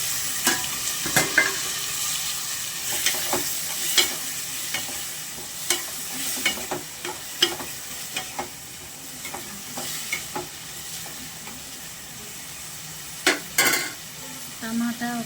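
Tomatoes tossed into browned onions in a chicken curry pan sizzle steadily, with repeated scraping and stirring knocks of a spoon against the pan and a brief metallic clatter near the end.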